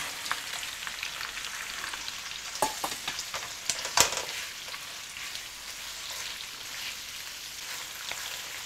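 Pork belly with garlic and spring onion fries in a pan, a continuous crackling sizzle with a few sharp spatula scrapes and taps bunched near the middle, and no voices.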